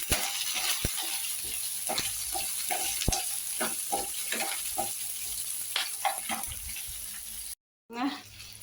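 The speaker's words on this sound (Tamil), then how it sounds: "கத்திரிக்காய் நல்லா வதங்கிருச்சு." Eggplant sautéing with partly cooked lentils in a pan gives a steady sizzle broken by frequent scraping stirs and utensil knocks, close and continuous until a short drop to silence near the end.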